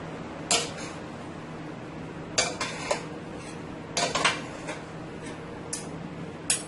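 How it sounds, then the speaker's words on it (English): Angel hair pasta with beef and vegetables is tossed in a pot with utensils, producing repeated metallic clinks and scrapes in irregular bursts, close and clear over a low background hum. "I'll go ahead and I'll give this a toss, guys, until everything is fully mixed"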